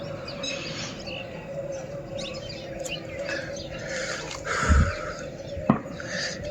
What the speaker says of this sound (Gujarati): અવાજ સંભળાય એ પણ ધ્યાનથી સાંભળજો પક્ષીઓનો.